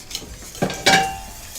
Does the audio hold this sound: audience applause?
no